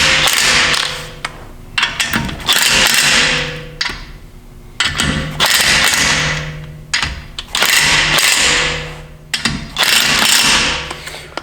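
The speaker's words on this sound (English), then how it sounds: "So, all right, so I'm gonna go ahead and torque these down here." Ratchet on the wheel bolts of a BMW G80 M3 fitted with wheel adapters, loud close bursts of rapid clicking, each lasting over a second, separated by short pauses, repeating several times.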